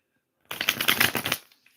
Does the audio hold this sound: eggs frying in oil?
no